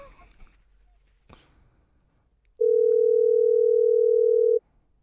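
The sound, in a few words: telephone call ringing out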